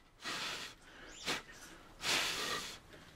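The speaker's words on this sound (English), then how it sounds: "one last blow for good luck" Two long breathy blows of air puff across a model kit, the Star Trek U.S.S. Enterprise from AMT, each lasting about half a second to a second, close and soft, with a quick sniff between them.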